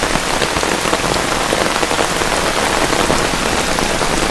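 Heavy rain pours down steadily, a dense, loud patter drumming on a hard surface with no pauses.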